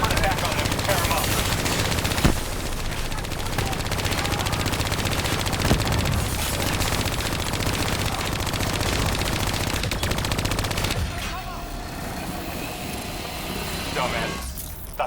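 Call of Duty Black Ops 3 combat gunfire aimed at bats, sustained rapid automatic bursts with aircraft-like drone behind, loud and continuous before thinning toward the end, mixed under game voices.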